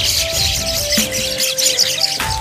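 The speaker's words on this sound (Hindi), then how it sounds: "ये रही चिड़िया" Birds chirp and tweet in a garden at Varanasi airport. Dense overlapping calls fill the air continuously, loud and close, with no talk over them.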